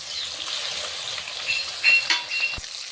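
Belly-heavy fish frying in a pan for a potato and cauliflower curry, a continuous close hiss of sizzling oil with small pops and a brief clink near the end, no voices.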